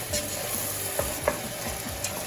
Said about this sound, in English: So fry the garden peas as well in the oil for about 2 to 3 minutes